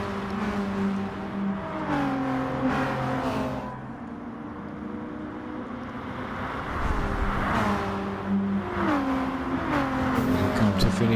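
Peugeot race cars in a racing video game, with engines revving and shifting through gears in rising and falling whines, several cars close together and loud, under continuous motor drone.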